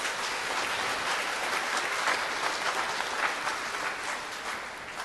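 A church congregation at an evening Mass claps loudly and continuously, a dense, even wash of many hands sustained for several seconds without talking.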